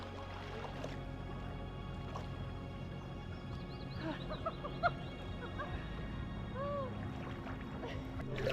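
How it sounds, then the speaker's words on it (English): Ducks with a brood of ducklings on the shore of Loch Lomond give faint, scattered calls midway through, over a steady outdoor ambience of wind and water. "Little family of ducks over there."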